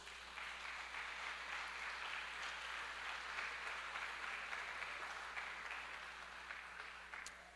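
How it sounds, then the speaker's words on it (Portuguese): Sustained applause from a church congregation, steady and moderately distant, holding evenly for several seconds before easing slightly at the end, with a faint low hum beneath. "Aqueles que podem, aplaudam a Jesus."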